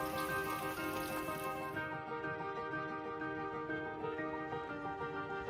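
Steady rain falling outside a pond house under renovation, a continuous dense patter that holds even and close throughout, with a faint tonal hum running beneath it.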